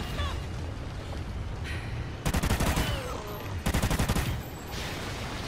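Bursts of M27 assault rifle fire in Call of Duty: Ghosts, with two loud, rapid automatic volleys cutting through steady background game noise.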